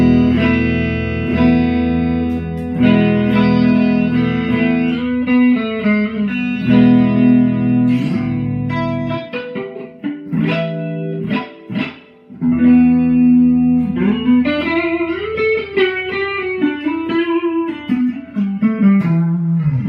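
Electric guitar through a chorus pedal and amp plays chords and melodic lines with a shimmering chorus effect and some reverb, steady and up close, with a brief sparse break midway.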